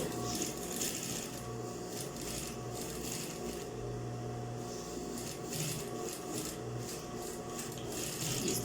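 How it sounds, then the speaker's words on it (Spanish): A sewing machine stitches along an existing seam of a welt pocket, a steady continuous mechanical hum with a faint rattle that runs the whole time. "y coser exactamente por donde esa costura que ya está ahí, de lado a lado"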